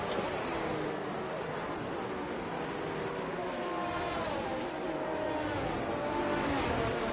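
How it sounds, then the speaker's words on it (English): A race car engine revs in a GP2 racing video game set at the Austria circuit, a steady, buzzing drone that holds for several seconds with faint voices underneath. "is currently revving the engine. Getting that engine nice and warm"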